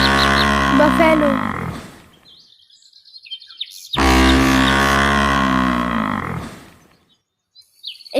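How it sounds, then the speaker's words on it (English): A buffalo lows twice, each call a long, deep, drawn-out sound lasting about two seconds. The calls are loud and close, with a quiet pause between them. "Buffalo."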